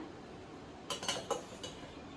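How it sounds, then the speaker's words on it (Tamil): Cooked rice is stirred into sautéed carrots in a pan, a few distinct metal spoon scrapes and clinks against the pan over a quiet background. "அதில் வந்து சாதத்தை போட்டு கிண்டுறேன்"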